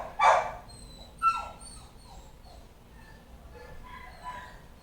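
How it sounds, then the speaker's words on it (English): A dog whimpers and cries nearby with a sharp yelp followed by softer whines spread over several seconds against a quiet indoor background. "now the dog is crying"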